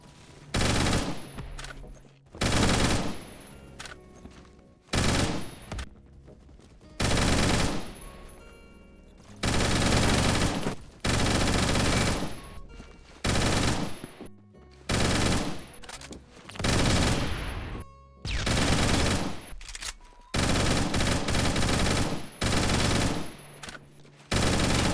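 FAMAS Commando fired in the shooter game Phantom Forces: loud bursts of automatic rifle fire in a repeated on-off rhythm, each burst lasting a second or two, with no talking.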